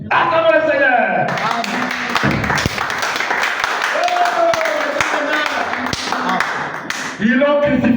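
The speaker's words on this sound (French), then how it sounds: "Acclamons le Seigneur." A church congregation claps and cheers to acclaim the Lord, a sustained burst of applause that swells and fades, mixed with voices and a preacher speaking over it.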